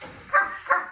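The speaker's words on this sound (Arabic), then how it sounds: "واحنا بنتفرج على الكلاب" A dog, such as a German Shepherd, barks twice in quick succession, moderately loud and fairly close, with a muffled background.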